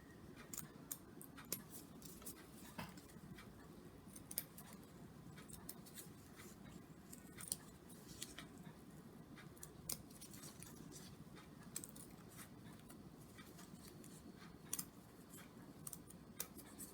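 Scissors snip pins on a handmade holiday ornament: faint, sparse little clicks and snips scattered over a quiet background, with no voices.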